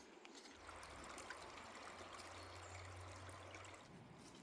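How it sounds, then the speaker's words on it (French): Small stream trickling in the countryside: a steady, soft wash of running water holds throughout, fairly faint and continuous, with a low hum underneath for most of the clip and no talking. "Ah, il y a un petit ruisseau."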